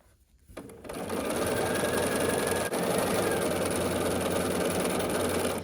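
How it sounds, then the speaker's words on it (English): A sewing machine stitches a long seam joining two quilt blocks, starting after a brief pause and running at a steady, fast, even whir close by, with no talking. "we're gonna sew here along this long seam of block 2 and block 3"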